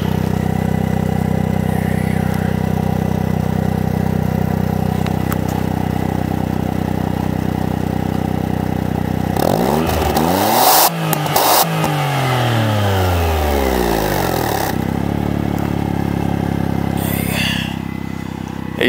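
A 1991 Suzuki Cappuccino EA11R turbo engine idles steadily, then revs sharply in a loud rise and fall of pitch near the rear muffler before settling back to a loud, steady idle.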